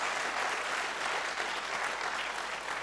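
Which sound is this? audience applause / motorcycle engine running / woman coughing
audience applause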